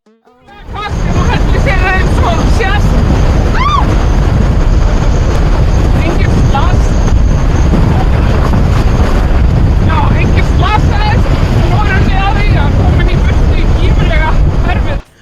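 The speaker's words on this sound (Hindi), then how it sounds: "ये रिपोर्टर बहुत तेज हवा में रिपोर्टिंग कर रही थी" Strong wind buffets the microphone in a loud, continuous roar, with a voice faintly audible beneath it.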